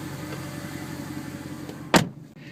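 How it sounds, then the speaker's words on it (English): A 2011 Mercedes-Benz SLS AMG door slams shut once, a loud, sharp thud near the end, heard from inside the car with steady engine and crowd rumble before it and a hush after. "Let me close the door."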